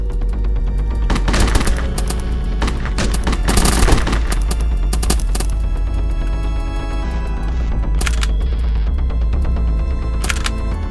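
Rapid bursts of Thompson submachine gun fire in a video game, loud repeated volleys with a sharp crack, some scattered single shots near the end, over a constant low rumble.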